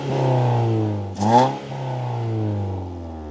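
A four-cylinder car engine, heard from outside, idles with a throaty note and then gives one sharp rev that swells and falls back to a steady idle, loud and close with no voices.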